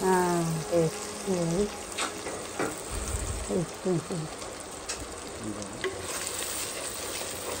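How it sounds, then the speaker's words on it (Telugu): Goat head curry base with turmeric fries and sizzles in a pan while being stirred vigorously. Scraping strokes come in bursts over a constant hiss, and a voice speaks intermittently above the cooking. "మంచిగా వేగిందాక కలుపుకోవాలి, మంచిగా వేయించుకోవాలి"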